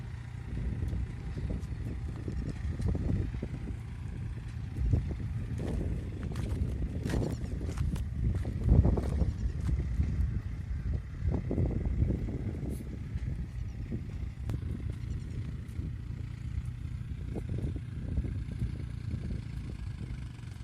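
A New Holland 4710 4x4 tractor drives through a large field that is wet and soft at the edge, its engine giving a steady low rumble with occasional clanks throughout, no speech.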